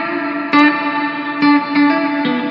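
Electric guitar through vintage Stratocaster-style pickups, bright bluesy chords struck a few times and ringing out with heavy reverb and echo, alone with no talk.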